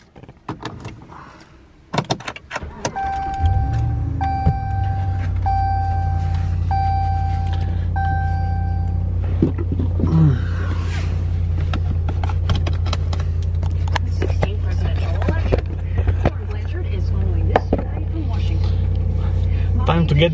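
A RAM 1500 pickup with a 5.0 L straight-six Cummins diesel starts up after a door closes and a chime sounds, then runs with a steady low engine drone and clicks and clatter inside the cab.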